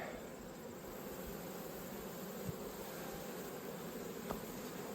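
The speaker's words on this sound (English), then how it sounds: "A few bees." Honey bees buzz faintly and continuously around frames pulled from a beehive, a thin steady drone with a couple of soft clicks.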